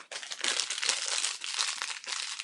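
A Skittles candy bag crinkles close up in quick, irregular bursts of crisp plastic rustling, fairly quiet and heard alone.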